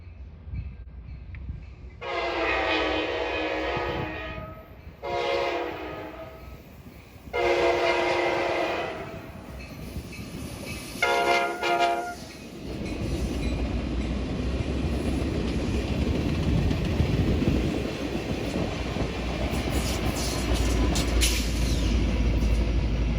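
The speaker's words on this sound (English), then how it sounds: "I caught one of these Piedmont service trains passing through the small town of Salisbury," An Amtrak Piedmont service train passes through the small town of Salisbury, North Carolina, sounding several loud horn blasts in a long-short pattern, then rolling by with a steady rumble of wheels and cars.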